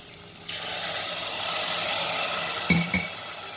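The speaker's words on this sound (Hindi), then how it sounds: "और अब इसमें ऐड कर देंगे हम पानी" Water pours into a pan of frying macaroni and potatoes, a broad rushing hiss swelling for a few seconds and then settling, followed by two short knocks of a utensil.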